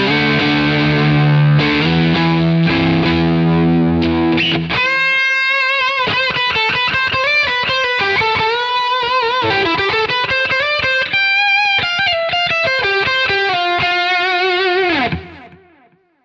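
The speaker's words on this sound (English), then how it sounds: "Here's the neck pickup." Overdriven electric guitar on the neck pickup through a Quad Cortex amp model, opening with a ringing chord, then a fast run of single picked notes and bends for about ten seconds before fading out, loud, close and solo.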